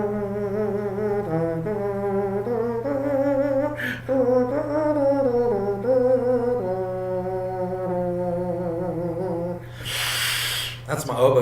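A voice imitates an oboe, humming a nasal, reedy sustained melody with shifting pitches over a steady low hum, ending in a short breathy burst.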